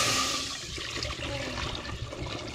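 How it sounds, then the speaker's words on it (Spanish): Water poured from a jug into a cooking pot on a home kitchen stove, a steady close splashing gush with a brief stronger start, no talking over it. "jarra de agua voy a echar"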